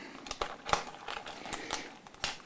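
Graph Tech Tusq string trees being cut out of their plastic packaging, giving a series of close, sharp snips and crinkles at an irregular rhythm.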